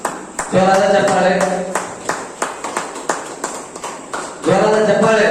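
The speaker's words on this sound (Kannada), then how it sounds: "ಜೋರಾದ ಚಪ್ಪಾಳೆ ಚಪ್ಪಾಳೆ ಬರಲಿ ಚಪ್ಪಾಳೆ." A thin round of scattered handclapping from a small audience at an award ceremony, a couple of seconds of uneven sharp claps, between stretches of an announcer speaking loudly over a microphone.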